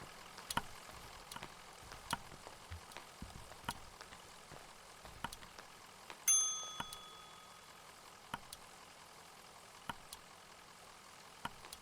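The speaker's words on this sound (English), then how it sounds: "Ooh, a bell." A bell in the video game Kentucky Route Zero rings once with a clear, faint, ringing tone that fades over about two seconds, among quiet scattered clicks and a low ambient hum.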